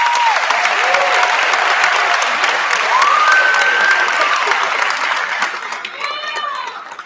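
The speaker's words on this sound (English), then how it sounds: "Let's give them a round of applause." A crowd applauds loudly and continuously at an eighth-grade promotion ceremony, the clapping holding steady before tapering slightly, with a few faint whoops mixed in.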